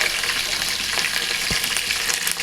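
Onions, curry leaves and green chillies fry hard in a pan, giving a loud, dense, continuous sizzle with a brief stir or clink midway, heard close and without talk.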